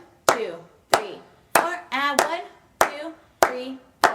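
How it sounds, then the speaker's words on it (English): A pair of hands claps out steady quarter-note beats: seven sharp, evenly spaced claps, close and clear, while a voice counts the beats aloud between them. "So if I were to clap it, it would sound like this."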